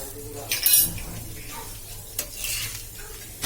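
A jowar dhirde, a Khandeshi-style sorghum flatbread, is flipped on a hot pan, giving a soft scrape and clatter of the spatula followed by a low, steady sizzle.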